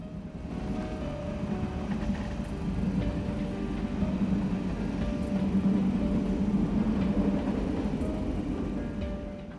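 In Train Simulator, a heavy freight train of 30 wagons, 2,130 tons, hauled by two locomotives, rumbles steadily with low droning engine noise and faint rail clatter, continuous and fairly close, with no voices.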